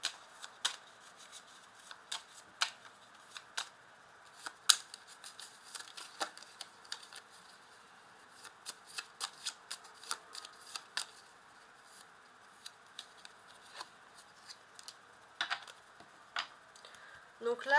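Tarot cards being shuffled during a card reading: a steady run of soft, quick papery flicks and riffles, close and quiet, with a few louder snaps, while someone speaks in French at intervals.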